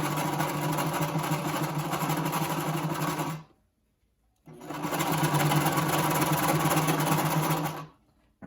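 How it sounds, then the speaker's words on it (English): Sewing machine stitching a cloth face mask hums fast and close in two long bursts separated by a short pause. "And then you're gonna stitch all the way down."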